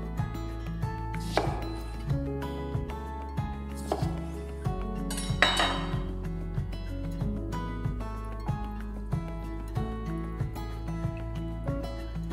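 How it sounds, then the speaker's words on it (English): A knife cuts through a lemon on a board with a steady series of crisp taps, layered over a continuous musical backing with a few brighter clinks. "try slicing the lemon like this and squeeze each segment separately"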